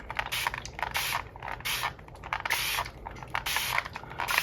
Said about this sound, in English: So the harder you spray, the more paint it takes off.